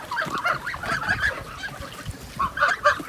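Several 65-day-old geese honking repeatedly nearby on a farm, loud overlapping calls in short bursts with brief pauses.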